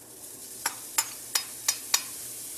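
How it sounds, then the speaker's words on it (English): Pancetta browning in oil in a pan, a quiet sizzle broken by five sharp scraping stir strokes spaced about a third of a second apart, close and clear with no talking. "we want to take this pancetta, and we're going to start with this first, and we're going to brown it"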